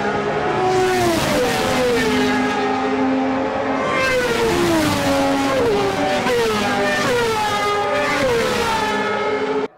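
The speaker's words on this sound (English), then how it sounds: "Forgot just how noisy those damn bikes are." Racing motorbikes at the Northwest 200 road race near Portrush scream past in close succession. Their high-revving engines swell loud and then drop in pitch as each one passes, a continuous roar with no one talking.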